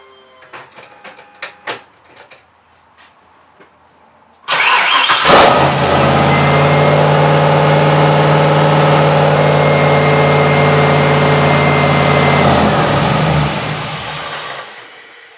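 A car engine cranks and catches, then revs high to about 2,000 RPM and holds a loud steady roar for several seconds before easing down, after some faint clicks and rattles.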